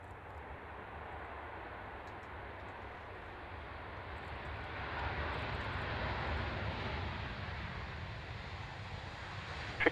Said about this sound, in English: Cessna 336.